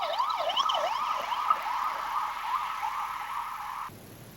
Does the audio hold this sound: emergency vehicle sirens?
yes